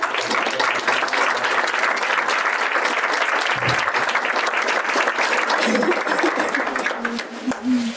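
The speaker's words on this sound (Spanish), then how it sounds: "Un aplauso también para..." Loud, sustained audience applause at a university panel discussion on the 1968 student movement, a dense continuous clatter of many hands from start to finish, with faint voices mixed in near the end.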